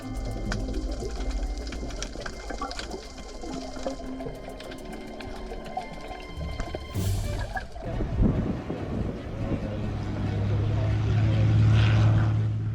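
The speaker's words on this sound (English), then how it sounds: "What seemed like a normal landing at Oshkosh 2022 was completely altered by crosswinds reaching 27 knots." A light airplane landing at Oshkosh 2022 in strong crosswinds gusting to about 27 knots, its engine droning steadily, with gusty wind buffeting and rumble building toward the end.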